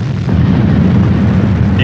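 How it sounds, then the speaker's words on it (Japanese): A rocket launch gives a loud, continuous low roar that rumbles steadily throughout without letup. "このロケット発射したみたい"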